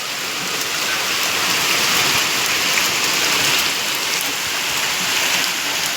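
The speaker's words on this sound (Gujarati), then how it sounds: "જોરદાર રાતે વરસાદ ચાલુ થઈ ગયો" Heavy rain pours down at night in a continuous dense hiss with fine pattering, steady and loud throughout with no voices.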